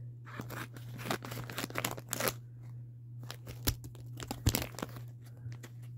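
Close-up crinkling and snipping of stiff plastic packaging being cut with scissors, irregular crackles and sharp clicks over a low steady hum.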